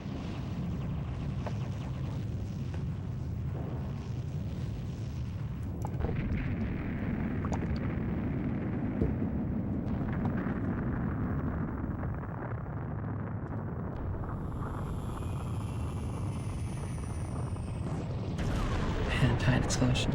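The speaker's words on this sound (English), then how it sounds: "And giant explosion." A giant explosion in the shooter Gradius V roars as a dense, sustained blast of rumbling noise lasting many seconds, with a few high whistling tones sweeping in near the end.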